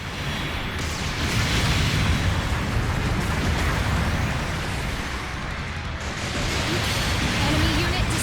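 Explosions and bursts of destroyed mecha in the Gundam Battle Operation 2 game, a dense, loud rumble that runs steadily for several seconds over continuous battle noise.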